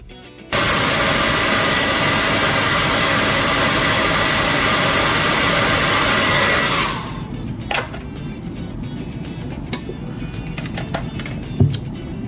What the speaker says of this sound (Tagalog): So yeah, mag-blower lang ako.